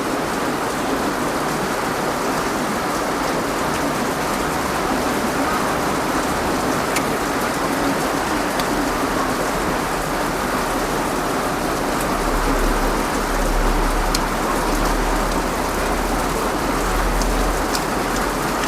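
Steady, heavy rain falls on surfaces, a dense unbroken hiss lasting throughout, with faint low rumbles underneath.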